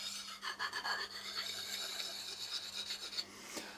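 A tool strokes gently along the lip of a freshly turned wet wood bowl to take off burrs, making soft rhythmic rasping rubs, close and quiet, with a short pause between strokes.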